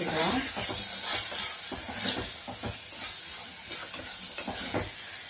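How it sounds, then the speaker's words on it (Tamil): Turmeric, chili and coriander powders sizzle and hiss steadily in a hot pan for dried-fish kuzhambu, with faint scraping stir sounds and soft clinks over a constant frying hiss. "இதை வதக்கி"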